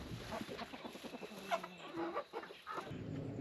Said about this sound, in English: I'm still feeding the meat chickens twice a day.